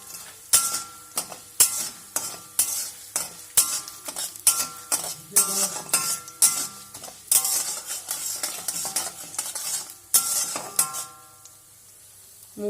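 Moong dal dry-fries in a pan over a low flame, with rhythmic metal spoon scrapes and clinks against the pan at a brisk, regular pace over a soft sizzle, close and clear, ending in quiet, with no voices.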